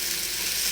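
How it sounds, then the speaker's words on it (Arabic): Onions frying in a pan with rendered hamburger fat, a steady bright hiss and crackle of sizzling that carries on evenly through the short moment. "نزلت البصل"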